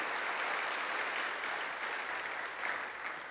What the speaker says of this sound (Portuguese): Uma salva de palmas a eles, para a glória do Senhor.